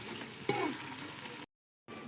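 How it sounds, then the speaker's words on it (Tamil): Onions sautéing in a pan for chicken biryani, a soft steady sizzle with a brief stir around the midpoint, broken by a short gap of silence near the end. "வெங்காயம் போட்டு நல்லா வதக்கி விட்டுக்கலாம் ஃப்ரெண்ட்ஸ்."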